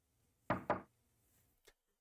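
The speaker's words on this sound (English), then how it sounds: "I opened my eyes at the sound of knocking." Two firm knocks on a door in quick succession, close and distinct against near silence, followed a moment later by a faint short tap.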